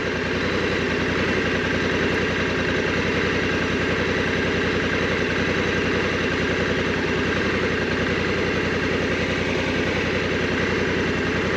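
A Honda Africa Twin motorcycle idles in Pisgah National Forest, a steady, loud, close engine throb with an even low pulsing rhythm that runs unbroken throughout, with no voices.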